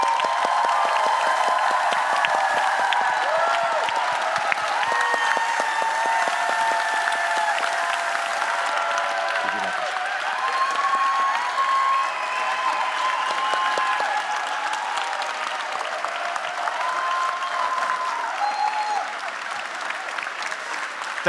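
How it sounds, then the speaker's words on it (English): A large audience at the Mindvalley University 2023 closing gives a long, loud, sustained round of applause with some cheering for the Mindvalley team, the clapping steady and dense throughout. "can you please do the biggest applause, the biggest love that you can give for this team here"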